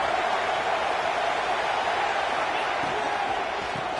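A football stadium crowd roars steadily as the home defense faces a red zone stand, a broad sustained wash of distant cheering without pause.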